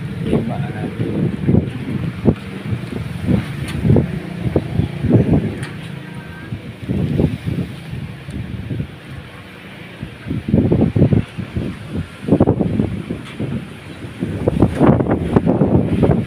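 Strong gusts in Buruanga, Aklan buffet the microphone in uneven surges, rumbling loudly and fading briefly before returning, with no clear talk.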